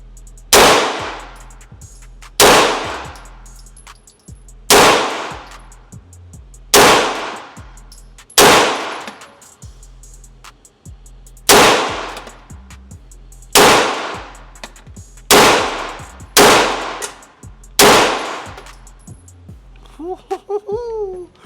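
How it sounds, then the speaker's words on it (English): Pistol shots from a MAC DS 9 2011 at a gun range ring out one at a time, about ten loud, sharp cracks at a steady pace with short decaying echoes, followed by a few quick metallic clicks at the end. "see me shooting the gun at the gun range"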